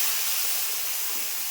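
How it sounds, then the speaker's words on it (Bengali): Potatoes go into hot oil already used for frying fish and tempered with cumin, producing a brief, steady, close hissing sizzle with no voices. "এখন আলুগুলি ছেড়ে দিচ্ছি"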